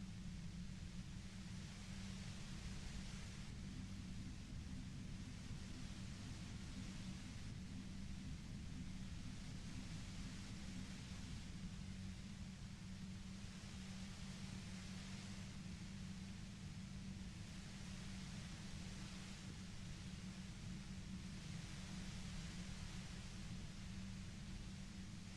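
Steady white-noise ambience in the video game Disco Elysium, an even, unbroken broadband hiss with a low rumble underneath, faint and continuous throughout with no voices.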